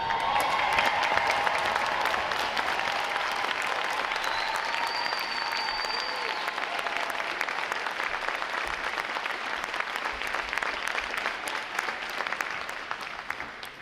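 A large crowd at a Navy boot camp graduation applauds veterans standing in the audience, a full, continuous ovation of many hands clapping that stays loud before easing gradually, with a brief whistle midway.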